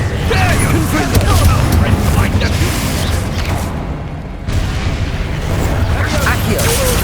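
Booming spell blasts and explosive bursts from combat in the game Hogwarts Legacy, a loud continuous roar with rumbling impacts, a short lull in the middle, and a voice speaking over it.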